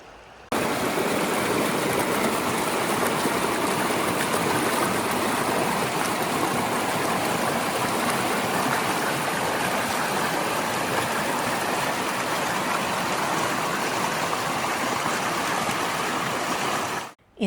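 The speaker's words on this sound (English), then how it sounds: "The Virgin River flows year-round through the park and is responsible for carving Zion Canyon over millions of years." The Virgin River flowing through Zion Canyon in winter, a loud, continuous rushing of water that stays even throughout.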